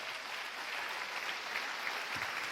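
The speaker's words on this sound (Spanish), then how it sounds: "Denle un aplauso a Jesús." Soft, distant clapping from a church congregation during a Spanish-language sermon, a steady patter of hands at low level with no voices over it.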